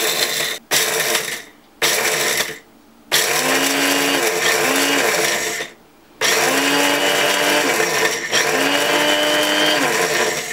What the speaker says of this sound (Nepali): अब भुटेको खुर्सानीलाई ब्लेन्डरमा राखी टिम्बुर मिसाई हल्का ब्लेन्ड